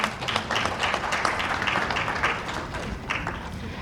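Audience applause at an ESG award ceremony honouring corporate winners, a steady dense wash of many hands clapping from a moderately distant crowd, continuous and even throughout with no talk over it.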